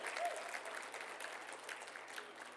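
An audience at a keynote applauds in a brisk, even wash of clapping that fills the room for a couple of seconds, fairly distant and soft, with a brief voice near the start.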